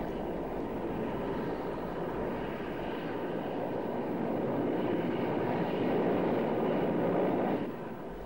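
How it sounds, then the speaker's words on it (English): A heavy rotor-and-engine roar of an Mi-24 helicopter gunship passes overhead, growing louder toward the end before abruptly dropping off. "an Mi-24 gunship flies over a Stinger well within range"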